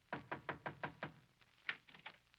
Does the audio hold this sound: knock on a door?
yes